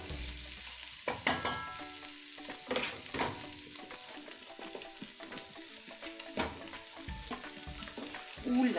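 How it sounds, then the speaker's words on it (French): Vegetables stirred with sugar in a hot pan, a steady sizzle and frying crackle with repeated scraping and clattering stirring strokes, close and fairly loud, with no talking. "Je mélange bien. Comme ça, les sucres vont adhérer aux légumes et vont avoir un goût dense."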